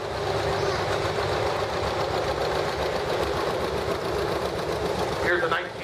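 A 1954 John Deere 70 tractor chugs past at a parade, its engine putting out a steady, loud, rhythmic idle throb while a voice speaks over it.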